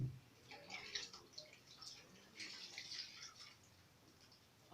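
Clean water runs from a tap to rinse a sponge-washed coffee cup, a faint hissing splash that swells and fades in uneven bursts without voices.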